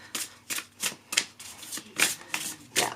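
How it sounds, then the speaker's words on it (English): Riffle shuffling of a new, sturdy oracle card deck, about eight quick papery ruffling bursts at a steady rhythm, close and clear with no talking. "Shuffle beautifully right out of the box, which is not always the case with some cards."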